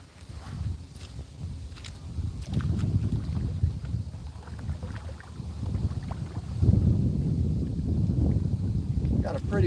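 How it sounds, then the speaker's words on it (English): Wind gusts and choppy water slapping a fishing boat out on open water, a steady low rumble that swells louder partway through, with occasional knocks and a voice speaking faintly underneath. "Got a pretty good wind coming, a lot of chop"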